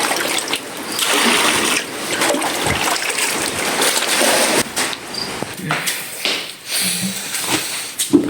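Water runs steadily and loudly with splashing and dribbling, close by, continuing throughout without pause.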